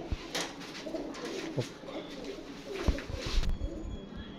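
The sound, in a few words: pigeons cooing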